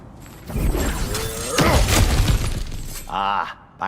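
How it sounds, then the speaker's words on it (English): Cracked ground breaks apart in the God of War Ragnarok video game, with a heavy crunching shatter and rumbling debris, close and loud, followed by a brief voice near the end. "back to smashing through things for fun and profit"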